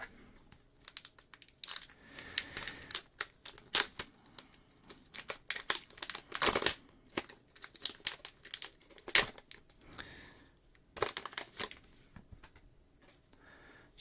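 Foil wrappers of Elestrals trading card packs crinkle and tear close by in irregular bursts, sharp crackly rustles separated by quiet gaps, with no voices.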